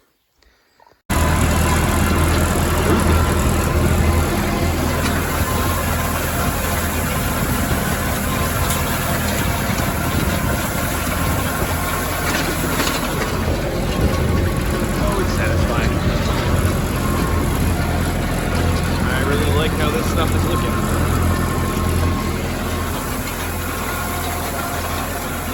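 A tractor tedding first-cut hay in a field runs with a loud, steady engine drone that holds almost unbroken for the whole stretch after a sudden start.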